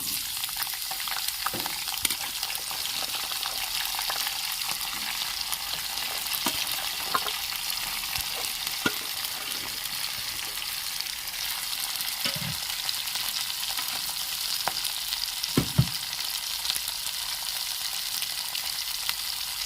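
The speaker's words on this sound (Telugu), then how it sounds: "ఇదే ఆయిల్లో చిక్కుడుకాయలు అయితే నేను వేసేస్తున్నానండి" Broad beans (chikkudukaya) fry in hot oil with a constant close sizzle, broken by a few scraping stirs and light knocks of a spoon against the pan, with no talking.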